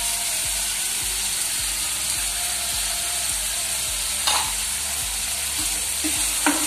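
Chopped green chillies sizzle steadily in a hot pan for a veg Maggi masala, with an even, rhythmic stirring pulse and a couple of brief utensil scrapes near the end; nobody talks.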